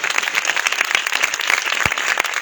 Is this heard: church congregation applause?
yes